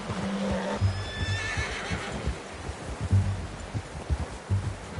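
A horse in a video game whinnies in a high, quavering cry near the start, then hooves clip-clop steadily over soft ground with rustling around them, at moderate loudness.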